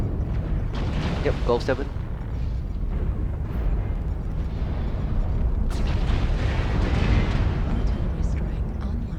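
Deep rumbling booms and blasts from an artillery strike in MechWarrior Online, heavy and continuous under voices on team radio chatter.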